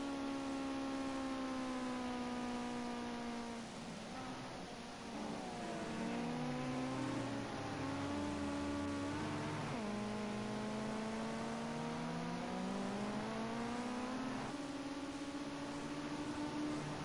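Race car engines in a racing game roar down the Bentley Straight at Snetterton, a Ginetta GT5 pulling a steady high drone whose pitch falls and climbs through gear changes and braking, continuous and alone with no talk.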